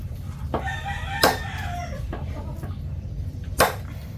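A rooster crows once with a drawn-out, wavering call, surrounded by a steady low rumble of background noise, two sharp clicks and a few faint clucks.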